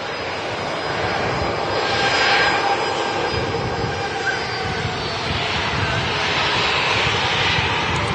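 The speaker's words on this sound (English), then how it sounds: "There is an EasyJet pinged up and taxiing" An EasyJet airliner taxiing at Manchester Airport gives a steady, loud engine roar and whine that swells slightly and holds throughout, fairly close.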